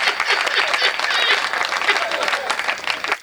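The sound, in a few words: audience applause at a poetry recital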